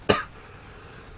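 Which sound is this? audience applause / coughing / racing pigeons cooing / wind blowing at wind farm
coughing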